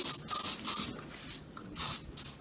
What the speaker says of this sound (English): spray the hair